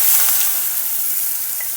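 A steady, close hiss of onions frying in a pan, continuous and fairly loud without pauses.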